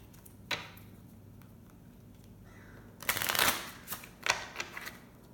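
An oracle card deck being shuffled by hand, a short riffle near the start, then a louder burst of flicking and slapping cards with a few sharp taps toward the end, close and alone in a quiet room.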